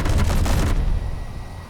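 Rapid autocannon fire from a spacecraft weapon in the space game Space Engineers, a dense burst of loud heavy booms for under a second that stops abruptly and leaves a low rumble.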